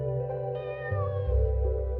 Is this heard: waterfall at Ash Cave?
no